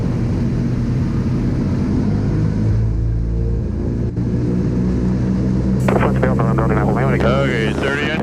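Radial piston engines of a DC-3 roar loudly and steadily through a takeoff run as power comes up, with a dense low drone throughout and a voice speaking over the engines near the end.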